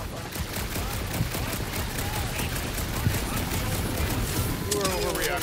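Rapid gunfire from the Guardians of the Galaxy video game, a dense continuous stream of shots running under game chatter and background noise the whole time.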